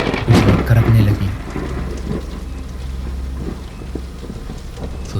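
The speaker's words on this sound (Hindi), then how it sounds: "आसमान में बादल छाने लगे, बिजली कड़कने लगी।" Thunderstorm in a village setting: a loud rumbling thunder crack opens, followed by steady heavy rain pattering on surfaces, with a low continuous roar underneath.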